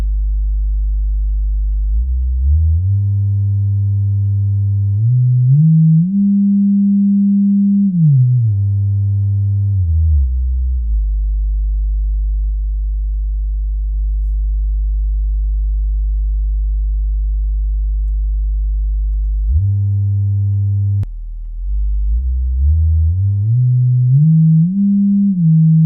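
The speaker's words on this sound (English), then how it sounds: "from those test tones" Steady electronic sine tones play through Kali Audio IN-UNF speakers, gliding up and down in pitch in stepped sweeps, with a long stretch of one low sustained tone.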